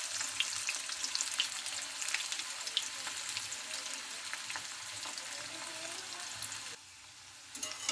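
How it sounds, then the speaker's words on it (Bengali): Potatoes for chicken biryani fry in hot oil until reddish, making a steady, dense crackling sizzle that continues unbroken, with a brief quieter dip just before the end. "তো আমি আলুটা প্রথমে লাল লাল করে ভেজে নেব।"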